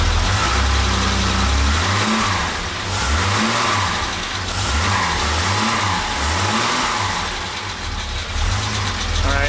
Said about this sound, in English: Let's see if we rev it a little bit.